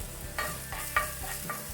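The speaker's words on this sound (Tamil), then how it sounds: "எண்ணெய் சூடானதும் குட்டி குட்டியாக நறுக்கின இஞ்சி, கூடவே குட்டி குட்டியாக நறுக்கின 2 பல் பூண்டு" Chopped ginger and garlic sizzle softly in hot oil while a utensil stirs and scrapes the pan a few times in quick succession, close and quiet.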